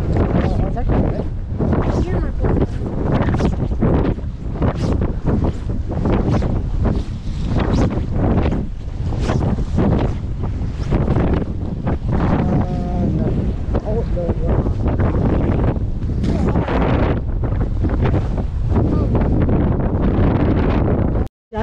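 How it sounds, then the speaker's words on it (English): Heavy wind buffets the microphone on a pier at Jones Beach, a loud, continuous rumbling roar with gusty bursts; a voice seems to speak faintly under it. "Sorry if it's very windy."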